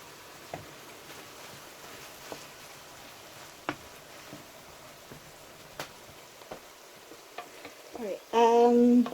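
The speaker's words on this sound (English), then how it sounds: "We're just going to let it simmer for a bit to make sure the beef is cooked" Mince beef simmers in a pan, making a soft, continuous low bubbling with scattered faint pops. Near the end a brief louder burst of sizzling and stirring breaks in.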